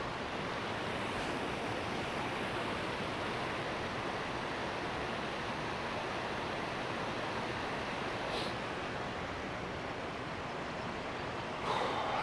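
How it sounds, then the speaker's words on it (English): A small woodland waterfall with heavy flow pours in a steady, even rush of water that holds unbroken throughout, moderately soft and with no voices. "So it's a gorgeous little waterfall, and there's a lot of water running over it"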